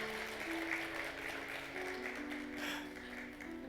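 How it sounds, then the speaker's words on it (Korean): Church congregation applauding during a Sunday worship service, soft steady clapping heard at a distance over a sustained organ-like tone. "박수하겠습니다."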